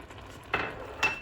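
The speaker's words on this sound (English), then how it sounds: "So this has come to a boil." A spoon stirs a boiling white sauce in a pot, two short metallic scrapes against the rim over a faint low bubbling, close and alone.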